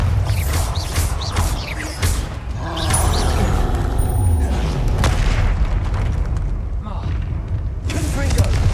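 Hogwarts Legacy spell blasts boom and crash repeatedly in a dragon battle at Hogwarts. Heavy thuds and sharp bursts overlap with a voice calling out over the din.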